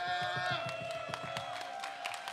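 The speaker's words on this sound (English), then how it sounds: "I want to hear the applause" A comedy-show audience applauds a comedian with a run of quiet, evenly spaced claps, a few whoops and a faint musical tone beneath.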